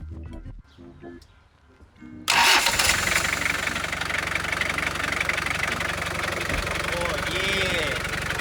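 A turbocharged Toyota Hilux LN106 engine cranks and catches after a quiet start, then settles into a loud, steady rough idle close by, with people talking underneath.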